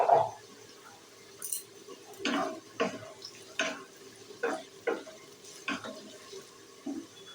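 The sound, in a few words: capsicum being stir-fried for fried rice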